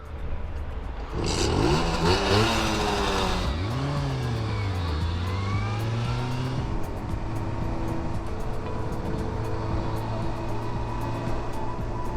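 A Simson S51 moped on a road, its two-stroke engine revving up through the gears and then droning at a steady pitch, close and loud throughout.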